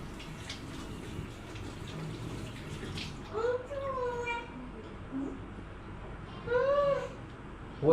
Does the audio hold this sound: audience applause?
no